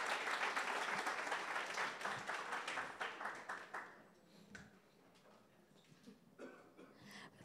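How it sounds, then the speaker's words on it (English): Audience applause for panelists at a talk on cross-functional collaboration, loud and dense at first, then thinning into scattered claps that fade out over the last seconds. "Let's give them one round of applause and get them to come back on stage."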